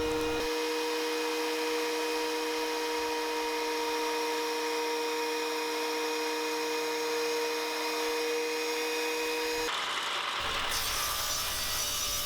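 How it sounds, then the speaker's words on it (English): Power wood planer running on boards, a steady loud whine with a constant tonal drone holding throughout, shifting into rougher cutting noise near the end. "I got this planer just a week or two ago, so this is one of the first times using it."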